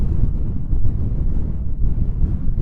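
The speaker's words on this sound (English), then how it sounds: "It's quite windy." Strong wind gusts buffet the microphone on open moorland above Rannoch Moor in Scotland, a loud, continuous low roar that swells and dips throughout with no other sounds.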